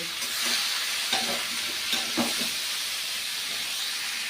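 Prawns cooking down with Malabar spinach in a hot pan: a continuous loud sizzle and hiss with a few spoon scrapes and knocks early on, no talking.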